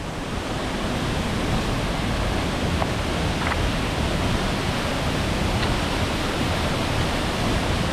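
Waterfall in a large canyon in Vinadia, a steady, dense roar of falling water heard up close, loud and unbroken throughout.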